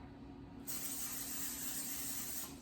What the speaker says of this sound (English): I'm going to spray the tops with the butter flavoring.